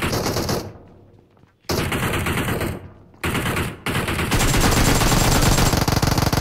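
Rapid automatic gunfire from a UG against an AKM in a PUBG Mobile squad fight in Pochinki, loud bursts broken by short pauses, then one long continuous volley.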